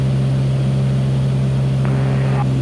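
Steady, loud drone of an A36 Bonanza propeller airplane climbing out in flight over a harbor, a constant low engine hum filling the whole stretch with no pauses.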